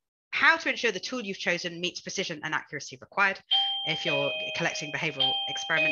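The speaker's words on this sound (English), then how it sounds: "sorry about the doorbell" A doorbell chimes in the background, a sustained two-tone ring beginning midway and continuing under a close voice talking steadily.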